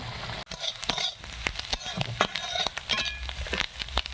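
Onion frying with turmeric and chili powder in a pan, a soft sizzle broken by repeated sharp scrapes and clicks of a spatula stirring at a quick, uneven pace.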